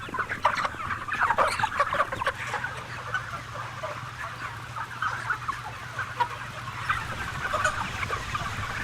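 Broiler chickens in a crowded factory farm shed cluck and murmur continuously, a dense layered chorus of many birds over a low steady ventilation hum, with no talk.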